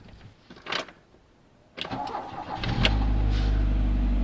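An Audi 80 B2 with a swapped fuel-injected 1.8 20V turbo engine cranks with a couple of short bursts, then catches and settles into a loud, steady idle close by.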